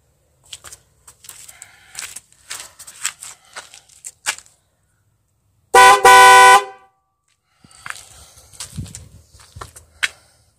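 Volga car horns, newly installed, blare once in a loud sustained blast of about a second, set among quieter clicks, taps and handling noise before and after.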